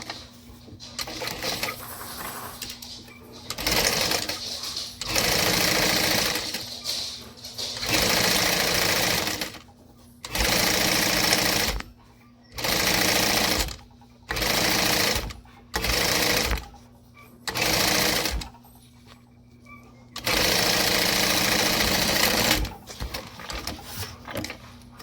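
A sewing machine top stitches a backpack panel in a series of loud, steady bursts of rapid stitching, separated by short pauses. Each run lasts a second or two, and the stitching runs longer at the start and end.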